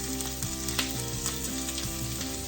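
Vegetables and soya chunks sizzle steadily in a hot pan during a light sauté for restaurant-style soya chilli, with salt being added; a continuous close frying hiss with a few soft stirring knocks.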